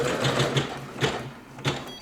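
An embroidery machine stitching a name onto a plush Santa gift sack runs at high speed, a dense mechanical whir punctuated by repeated louder clacks of the needle mechanism, close and steady with no voices.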